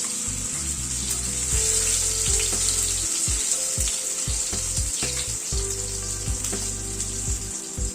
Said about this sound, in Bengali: এখানে 2টো আলু কেটে সেদ্ধ করে নিয়েছি, ওটাকে একটু ভেজে নিচ্ছি